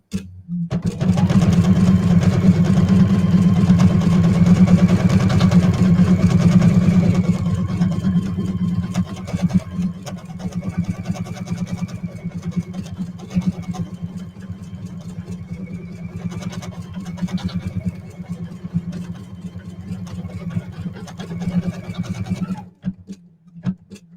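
An embroidery machine stitching out a simple design, giving a steady, fast mechanical hum and rattle that runs without a break for over twenty seconds, louder at first and then slightly softer, and stops abruptly at the end.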